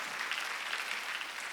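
Church congregation clapping during a Sunday worship service, a steady wash of many hands applauding together at low level, continuous and fairly even throughout.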